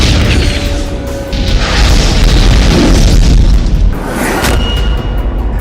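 Bombing of a thermal power plant in Okhtyrka, Ukraine, brings a very loud, sustained explosive roar with heavy low rumble that swells and holds for several seconds before easing slightly.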